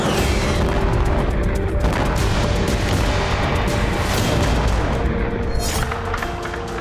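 Heavy gunfire and booming blasts from a street battle in Rafah come as dense, overlapping cracks and thuds that fill the whole stretch without letting up.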